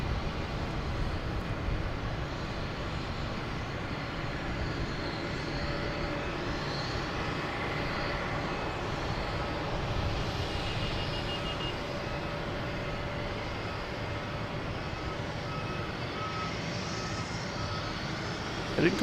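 At Boston Logan on a Friday night, an American Airlines airliner from St. Louis lands on runway 22 left, a distant jet roar holding steady and faintly swelling for nearly twenty seconds.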